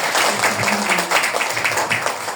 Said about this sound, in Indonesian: Tepuk tangan buat dia.